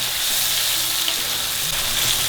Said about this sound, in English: Let the lime fry with the onion seed and the hing